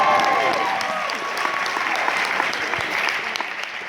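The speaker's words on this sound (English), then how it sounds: "Give yourselves a round of applause" A large seminar audience claps steadily and loudly throughout, dense sustained applause with a brief tone at the start.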